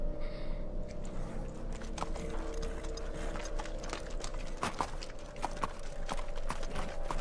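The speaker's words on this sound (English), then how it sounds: "Thomas Shelby is shown in command, totally in control, riding in on a horse" Horse hooves clip-clopping at a steady walk in a TV drama scene, a series of crisp irregular knocks over a low murmuring background, moderately close.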